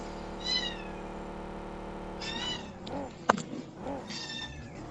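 A cat meows several times, drawn-out calls spaced a second or two apart, fairly close and moderately loud, with a sharp click partway through and no talking.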